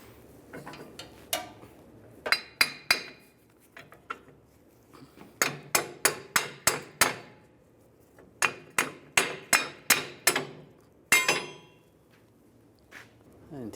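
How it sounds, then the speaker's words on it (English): A hammer knocks a stuck plate off the U-bolts of a 2007-2013 Chevrolet Silverado 1500 leaf spring. Sharp metallic blows come in quick bursts of several strikes, separated by short pauses, loud and close. "If it's stuck on there, just use a hammer."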